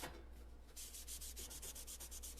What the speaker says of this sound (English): I'm doing the quick cleaning method, which is just taking a Lysol wipe and I'm wiping it out